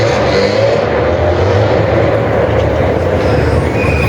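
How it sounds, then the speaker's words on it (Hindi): A motorbike engine roars loud and steady while riding along a road in Defence Phase 8, Karachi, a continuous close drone with passing traffic noise and no pauses. "क्या साउंड है यार बाइक का"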